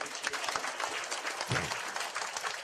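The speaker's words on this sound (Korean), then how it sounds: "우리 강사 목사님을 향해서 은혜 받았습니다 하고 박수를 뜨겁게 해주십니다" A church congregation gives warm, vigorous applause for a guest pastor, a dense, continuous burst of clapping from a standing crowd with a brief thump partway through.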